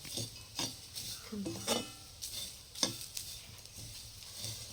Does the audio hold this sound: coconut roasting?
yes